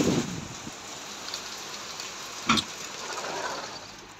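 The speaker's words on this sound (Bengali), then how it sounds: "আর এখনও দেখুন একটানা বৃষ্টি হচ্ছে।" Steady rain falls on a cloudy, cold day, a constant wash of drops with one sharper splash or knock partway through and no voices.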